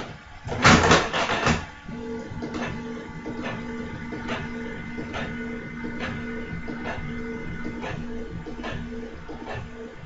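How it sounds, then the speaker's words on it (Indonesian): An inkjet printer prints syukuran invitation cards, opening with a loud clattering burst of the carriage, then settling into a steady mechanical whir with regular soft clicks and ticks as the print head moves back and forth. "Ini lagi proses ngeprint."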